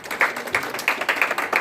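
Church congregation clapping in praise, a close burst of rhythmic hand claps at a steady beat, with no one talking over it.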